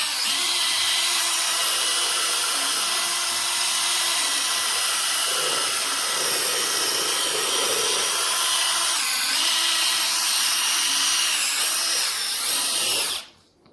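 A machine polisher works over freshly painted car bodywork, giving a steady, close whine with a broad whirring hiss that holds level throughout before cutting off abruptly at the end.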